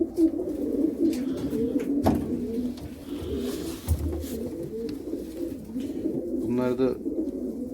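Arab takkali pigeons coo repeatedly in a close, low rolling rhythm, with a few sharper knocks and a voice speaking briefly.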